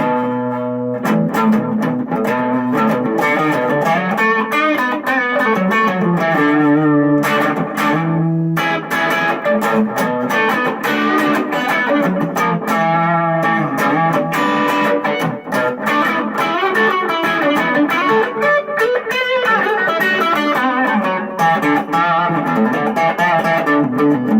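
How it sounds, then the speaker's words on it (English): Electric guitar, a custom Epiphone LP100 on its neck DiMarzio Evolution humbucker with mild crunch distortion, strummed chords and melodic runs played steadily and loud, no voices. "Here's the neck Evolution humbucker with a little bit of crunch."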